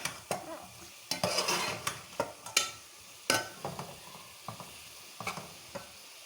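Onions and vegetables being stirred in a hot pan for Singaporean rice, an irregular run of scraping stirs over a soft sizzle, close up with no talking.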